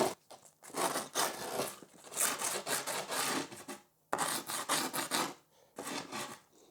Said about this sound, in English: So, I just need to use my hanger to loosely mark this.